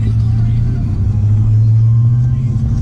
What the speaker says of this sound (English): Gotta love how loud this truck is, man.